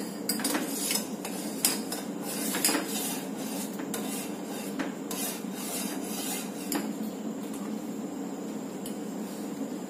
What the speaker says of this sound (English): We'll put it in low flame and stir the kadha for about 1 minute or 30 seconds.